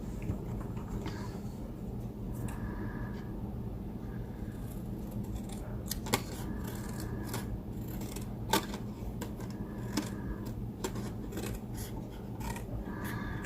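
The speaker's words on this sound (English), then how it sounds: "I just need to cut it down some more." Scissors snip and rasp through paper in a steady run of cuts close by, with small rustles and clicks between strokes during a craft session with a cut-and-emboss machine.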